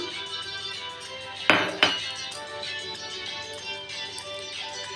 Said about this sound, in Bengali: এরপরে আমি আলুগুলো দিয়ে দিচ্ছি।